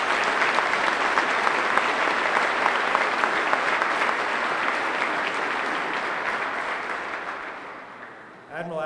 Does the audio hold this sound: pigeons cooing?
no